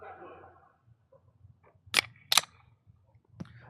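Quiet outdoor creek-side scene with a can of Rockstar Recovery energy drink cracked open: a couple of sharp pops and a hiss close by, followed by a brief click, after faint talk at the start.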